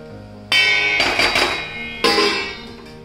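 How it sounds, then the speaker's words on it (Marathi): A metal lid set down on a cooking pot while onions and potatoes cook for Nagpuri tarri poha, giving two sharp ringing clanks about a second and a half apart, with a bright metallic resonance that lingers between them. "मी इथं झाकण ठेवते।"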